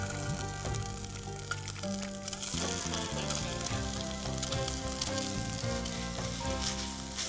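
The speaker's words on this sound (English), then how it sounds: "घी melt होने पे मैं इसमें डालूंगी कोकोनट." Milk-soaked coconut sizzling in melted ghee in a pan: a constant crackling fry that thickens after a couple of seconds as the pieces settle in, with soft background music.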